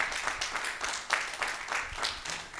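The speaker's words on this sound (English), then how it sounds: "Give her a round of applause" An audience at a craft policy launch event claps in scattered, uneven bursts, moderately loud and close, with no speech over the clapping.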